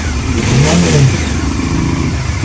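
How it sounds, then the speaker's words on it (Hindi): A motorcycle engine making an unwanted noise runs close and loud, a rough mid-pitched idle that rises briefly in a rev and then settles back to a steady running note. "अभी तो इंजन से आवाज़ आ रही है"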